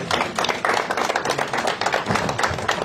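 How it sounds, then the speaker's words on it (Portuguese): A crowd claps for Diniz at a political event for Mozambican presidential candidate Venâncio Mondlane; loud, dense, rhythmic clapping runs continuously for a few seconds. "Palmas para o Diniz, né?"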